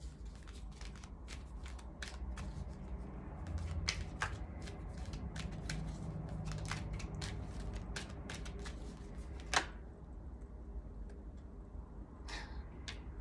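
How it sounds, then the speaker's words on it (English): Cards being shuffled close by, a steady run of crisp riffling clicks and flutters, with one sharp snap near the end. "Now, y'all see me shuffle these cards."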